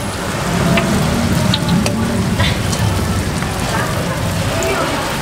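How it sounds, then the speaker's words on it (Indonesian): Fermented cassava (tape) frying in hot oil, a steady loud sizzle and crackle running throughout the clip, with people talking over it. "Kita mau goreng tape dulu."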